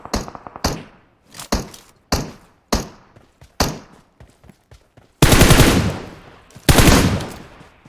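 Gunshots in PUBG Mobile aimed at bots: several sharp single cracks spaced about half a second apart, then two longer, louder bursts of rapid automatic fire near the end, close and punchy with no talk.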